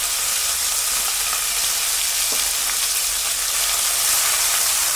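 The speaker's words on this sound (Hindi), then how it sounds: "साबुत मसाले सौटे होने के बाद अब इसमें काजू और प्याज का पेस्ट भी ऐड कर लेंगे।" A cashew and onion paste fries in oil with whole spices for a Murgh Makhmali chicken curry, making a loud, continuous sizzling hiss with faint stirring ticks, close by and without speech.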